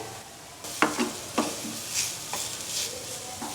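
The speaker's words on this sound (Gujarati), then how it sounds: "અહીંયા ખજૂરને કન્ટિન્યુ ચલાવતા રહેવાનું છે અને ઘી એકદમ સરસ રીતે મિક્સ થઈ જાય એ રીતે મિક્સ કરવાનું છે" Dates and ghee are stirred in a pan for dry fruit chikki, with a spoon scraping in a few distinct strokes over a soft sizzle, close up and without talk.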